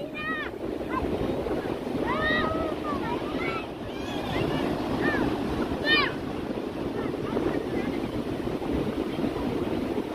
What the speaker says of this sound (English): Getting these waves as they build.